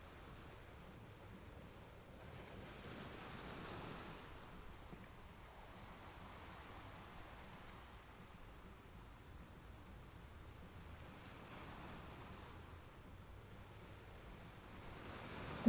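Ocean waves rolling and washing onto shore in a steady, soft, distant wash, swelling gently every few seconds with light wind noise, no voices.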